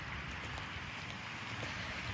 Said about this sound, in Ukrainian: Ну що сказати, дощик теплий.